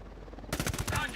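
Automatic gunfire in the Ghost Recon Wildlands video game bursts in after a brief lead-in, a rapid string of loud, close shots in quick succession.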